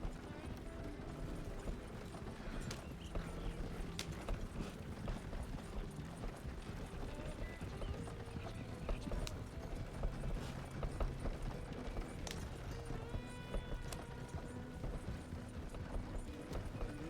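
Horse hooves clip-clop steadily in the Red Dead Redemption video game, a continuous rhythmic trotting set within dense game ambience and mechanical clatter, with no talk over it.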